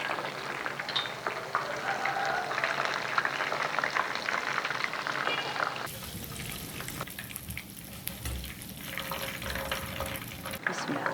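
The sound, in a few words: chicken pieces frying in oil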